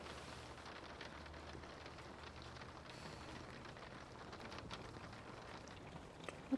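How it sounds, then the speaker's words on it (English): Rain falls outside as a soft, continuous hiss of drops on surfaces, faint and steady with a few slightly louder patters near the end and no talk. "It's still raining."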